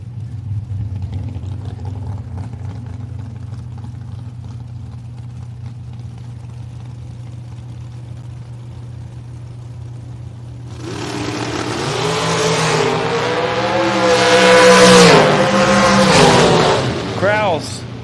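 A dragster idles with a steady low drone at a drag race, then revs loudly in rising, surging bursts near the end. An announcer talks throughout.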